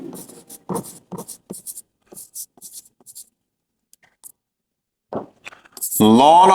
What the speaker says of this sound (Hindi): मैं यहां पर पूरा ही अब सवाल लिख देता हूं